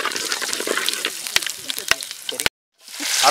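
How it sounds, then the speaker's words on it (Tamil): Fennel seeds, cinnamon and cloves crackle and sizzle in hot oil at the start of a chicken liver fry cooked on a beach, a dense spitting hiss with sharp pops that cuts off, then a fresh burst of frying noise swells. "எண்ணெய் காஞ்சிடுச்சு, பெருஞ்சீரகம் பட்டு கிராம்பெலாம் போட்டுக்கலாம்."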